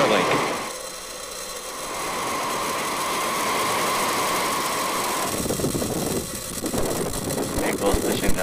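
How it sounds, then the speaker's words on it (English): Launch of a SpaceX Falcon 9 rocket carrying Starlink satellites, a rising broadband roar that swells and holds, then turns rougher and more crackling toward the end, with voices talking over parts of it. "ignition, liftoff of the Falcon 9"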